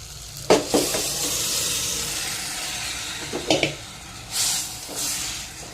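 Mutton tripe (boti) goes into a pan with ginger-garlic paste and kasuri methi for boti curry. A steady sizzle of frying runs under a few sharp scrapes and clinks of stirring, with a louder hiss toward the end.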